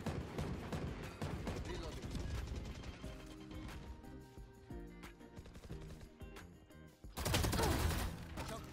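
Gunfire in a Valorant match, dense bursts of shots over game music and effects, with a loud close volley near the end.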